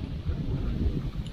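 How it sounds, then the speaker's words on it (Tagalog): Wind blowing outdoors under a cloudy sky before rain at a rural fishing spot, a low steady rumble of gusts buffeting the microphone, fairly faint and continuous with no voices. "Mahangin."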